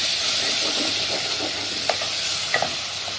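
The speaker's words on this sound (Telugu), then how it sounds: "ఉల్లిపాయలు మసాలా అంతా ఎట్లా మగ్గించుకున్నాను నూనెలో చూడండి దీంట్లో నేను పెరుగు వేసుకుంటున్నాను" Onions and masala sizzle and fry steadily in hot oil as yogurt is added, a loud continuous hiss with a few soft stirring clicks near the end.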